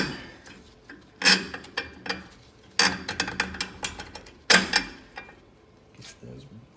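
Metal carriage bolts clink and tap into place during an airbag suspension install on a Chevy K3500 truck, a few sharp knocks and rattles in separate bursts with quiet gaps between.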